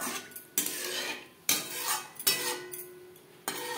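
A metal spoon scrapes and clatters through pomfret fish curry masala in a pan, four distinct stirring strokes with sharp knocks at the start of each and gentle sizzling between them.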